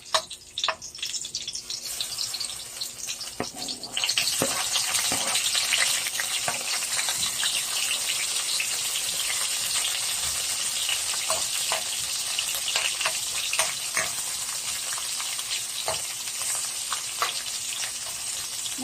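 Garlic sizzles in a pan, then onion is added and the frying surges into a loud, steady crackle. Intermittent stirring clicks and scrapes sound over the hiss, and no one speaks.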